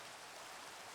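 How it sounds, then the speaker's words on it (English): Rain falling in a video game, an even, dense hiss of rainfall that holds steady through a brief moment. "Rain."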